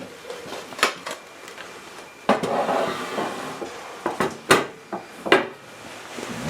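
A cranberry orange bundt cake is flipped out of a hot metal bundt pan, with scattered hollow clanks and knocks, a few sharp metallic bangs and a shuffling rattle between them.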